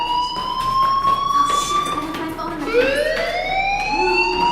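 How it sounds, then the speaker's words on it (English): A fire alarm siren in the video game Life is Strange wails loudly and continuously with rising and falling electronic tones over faint background ambience. "do you hear that fire alarm? That means you should be outside."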